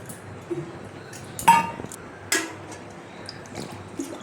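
Water poured into a cooking pot holding coconut milk for Bengali-style katla fish malai curry, heard as two brief splashy pours with faint clinks against a quiet kitchen background.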